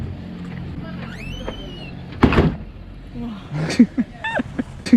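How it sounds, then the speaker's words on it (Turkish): A car door on an old vehicle in Indonesia slams shut with a single sharp close thud, followed by laughter and voices nearby. "Kapı kapandı."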